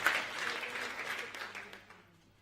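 An audience at a France Insoumise political rally in Toulon claps as a crowd, with dense applause that starts strong and slowly fades away.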